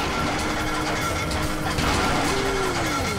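A boat engine fails in Grand Theft Auto V, a dense mechanical grinding and rattling clatter that runs continuously and loudly for a few seconds, with a rising whine near the end.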